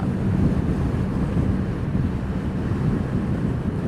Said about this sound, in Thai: แต่ไม่ไหวอะ ลมแรงจัดเลยอะ